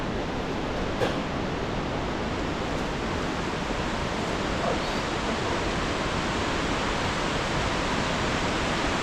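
A waterfall in the mountains of Vietnam roars with a steady, dense rush of water that stays loud and close throughout, with no talk over it.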